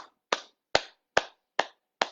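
Six slow, deliberate hand claps spaced about half a second apart, each a sharp close smack with a short decay, alone with no talking, during a gentle movement session.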